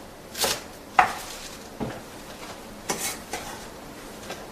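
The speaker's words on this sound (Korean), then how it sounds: "깨끗하게 씻은 봄동은 먹기 좋은 크기로 잘라주시고요" A knife chops washed spring cabbage (bomdong) on a cutting board into bite-sized pieces, giving a handful of separate, moderately loud thuds spaced about a second apart with no voices.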